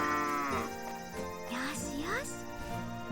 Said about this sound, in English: Moo. Yup, you're gonna hear a lot of that